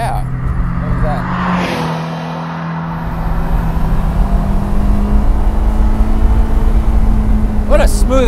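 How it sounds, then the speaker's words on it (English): A Ferrari 328 V8 from the 1980s hums steadily and smoothly while cruising a canyon road, a low, even engine drone that stays present throughout with people talking over it. "What a smooth engine."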